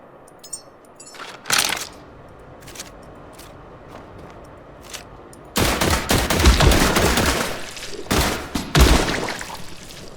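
Gunfire from a player's gun in the video game The Last Caretaker: a few isolated shots early, then a loud rapid burst of automatic fire in two stretches with clinking mechanical sounds between.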